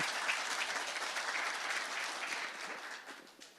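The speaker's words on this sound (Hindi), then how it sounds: "यानी वो ताली बजा के आशीर्वाद देता जाओ।" An audience at an interview event bursts into dense, steady applause at moderate distance, holding for about three seconds before tapering off.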